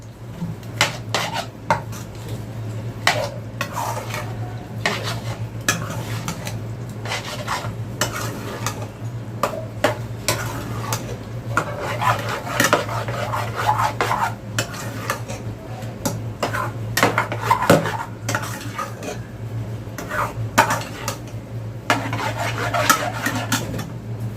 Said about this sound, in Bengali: ভালো করে নাড়িয়ে নেবেন।